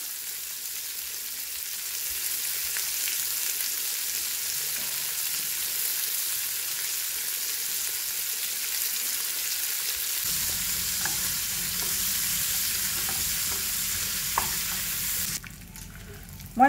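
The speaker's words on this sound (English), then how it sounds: "So in a pan, we're gonna cook the bacon first." Bacon frying in a pan on a stove, a steady bright hissing sizzle that runs unbroken, with a low rumble joining partway through and a few faint clicks near the end.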